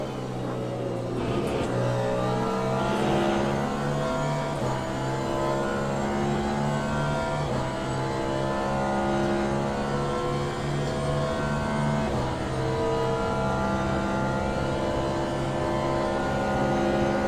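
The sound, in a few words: hypercar race car engine in video game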